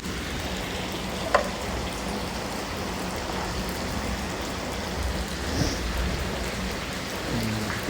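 Steady, even rain pours down for the whole stretch with no pauses, a dense hiss of drops on surfaces and a few faint, isolated knocks; no voices.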